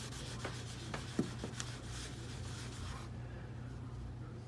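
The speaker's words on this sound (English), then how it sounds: "So we'll apply some alcohol to this and see what happens to this coating." Alcohol is rubbed onto a painted coating in quick, faint back-and-forth wiping strokes with a soft scrubbing texture. The rubbing stops about two-thirds of the way through, leaving near quiet.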